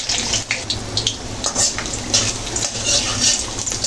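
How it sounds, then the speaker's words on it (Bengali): Chopped garlic frying in a pan, a close, crackling sizzle with scraping stirs and uneven bursts throughout. "তো হালকা করে ভেজে নিচ্ছি। রসুন কুচিগুলো অ্যাড করে নিলাম।"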